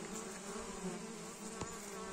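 A strong swarm of bees gathers on a cardboard trap in the woods, making a dense, continuous buzz close by, with one brief louder tap or knock near the end and no speech.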